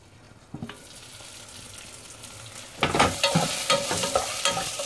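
Prawn and drumstick curry cooking in a pan on a low flame, a few soft clinks early on, then louder scraping stirring strokes and sizzling near the end, with no talk.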